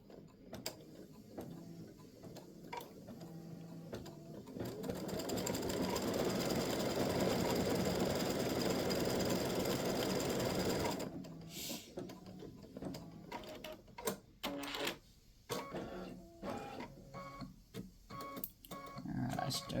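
Embroidery machine stitching a freestanding-lace bat design, a steady mechanical whirr that builds to a dense, loud run in the middle before stopping, followed by quieter clicks and handling noises.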